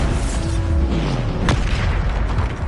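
A Bombarda explosion spell in the game Hogwarts Legacy booms in a dense, loud rumble with one sharper burst partway through, as if in the thick of a fight.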